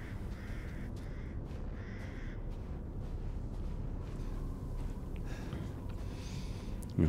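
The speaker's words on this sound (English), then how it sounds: "Alright, calm down, birds." Crows caw repeatedly over a dark, rumbling ambience in the horror game Resident Evil Village, their harsh calls clustered early and spaced out, ending with a sudden low thud.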